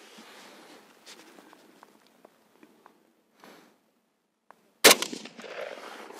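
One sharp, loud gunshot from a Saiga-308 rifle fitted with a Swamp Deer 4-16x44 scope at a range, preceded by quiet handling clicks and followed by a ringing decay.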